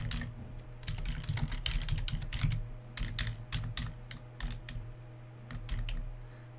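Code is typed on a computer keyboard in quick, irregular bursts of close keystrokes with brief pauses between runs, under a low steady hum and with no talking.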